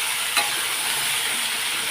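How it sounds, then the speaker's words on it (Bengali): Turmeric, green chilli and tomato frying in a pan as they are stirred: a steady, even sizzle with a single brief utensil click near the start, no talk. "এটা আগে একটু নাড়াচাড়া দিয়ে নিই"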